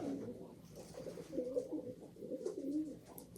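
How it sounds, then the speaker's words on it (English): Pigeons coo outdoors in a steady run of soft, low, rolling calls that overlap one another and carry on through the whole stretch at a moderate, even level. "Those pigeons sound so comforting."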